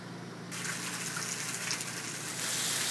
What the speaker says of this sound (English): I'm pulling in hot water from the hot water tank